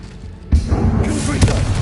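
Sudden booming burst from an Incendio fire spell cast in Hogwarts Legacy, a single loud thump followed by a brief crackling roar after a quiet start.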